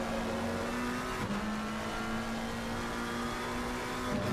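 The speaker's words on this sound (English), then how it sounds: "Seriously, a bit of engine braking going on." A race car's engine braking at Silverstone in a sim racing game gives a steady, loud engine drone with a sustained pitched tone. The note dips briefly twice as the revs shift, with no talk over it.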